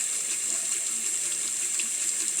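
Tap water runs steadily into a sink while someone washes their face during a skincare routine, producing an even, continuous hiss and splash that stays close and constant throughout.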